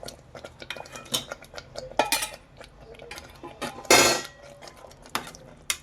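Shallow-fried potatoes are tipped into a pan of Punjabi-style dum aloo gravy and stirred, with a spoon scraping and clinking against the metal pan in irregular knocks, one louder clatter midway.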